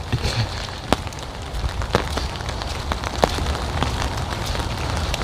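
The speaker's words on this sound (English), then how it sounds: "rain doesn't really bother me much." Rain falling outdoors on a hike, a steady close patter of drops on surfaces and gear with occasional sharper taps and crackles over low rumble, continuous throughout.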